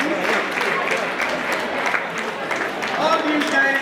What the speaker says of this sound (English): Can you clap for them, please?